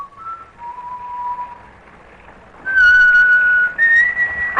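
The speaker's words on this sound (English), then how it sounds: "He rode along at a leisurely pace and whistled as he went." A man whistles a leisurely tune while riding a bicycle, clear wavering notes that grow louder toward the end, alone with no talk.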